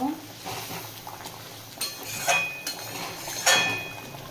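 Spoon stirring soyabean kofta curry in a pan, a few scraping, clinking strokes against the metal over soft simmering, with a speaking voice in the background.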